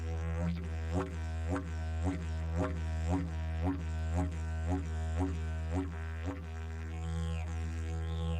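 A steady low didgeridoo drone with sharp percussive tongue slaps pulsing roughly twice a second, overtones flaring with each hit.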